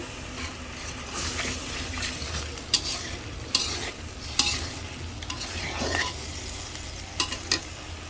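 A fish head fries in cooked-down spices, giving a continuous close sizzle with scraping stirs and a few sharper clacks of a utensil against the pan.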